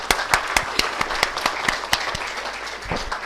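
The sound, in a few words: audience applause for the panel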